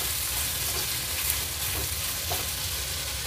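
Onion and tomato frying in a pan, a steady close sizzle with faint stirring scrapes underneath, no talking.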